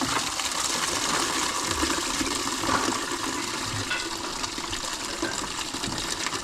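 Steady close gushing and splashing of coolant water pouring from a Vauxhall Omega V6 water pump into a bucket, continuous and fairly loud throughout with no voices.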